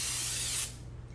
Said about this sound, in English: Also going to do oil spray on top so it doesn't dry out.